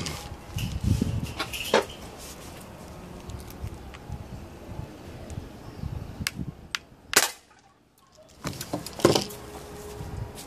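Single sharp gunshot fired at a red bottle, a loud crack around the seven-second mark followed by near silence, with lighter clicks and patter before it and a few more scattered cracks after.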